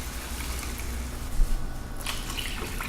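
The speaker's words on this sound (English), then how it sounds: "we add about 4 cups of water." About four cups of water are poured into a pot of red lentils for Indian dal, a steady splashing fill with a brief louder gurgle partway through, close and alone.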